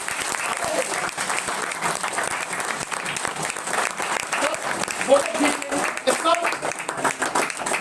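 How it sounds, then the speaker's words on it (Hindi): Loud, sustained applause from a seminar audience fills the whole stretch, dense clapping with crowd noise holding steady throughout. "जोरदार ताली बजाइए।"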